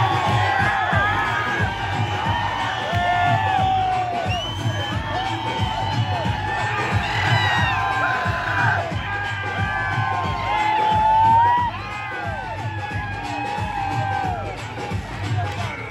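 A large auditorium crowd shouts, whoops and cheers continuously, loud and close, with children's yells and babble mixed through the roar.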